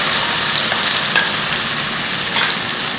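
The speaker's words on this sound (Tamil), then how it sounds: "இப்போ அரைச்சி வச்சிருக்கிற இந்த மசாலாவை இந்த எண்ணெயில் போட்டுக்கலாம்." Freshly ground masala frying in hot oil in a pan, loud close sizzling with stirring scrapes, continuous and steady with a few sharper crackles.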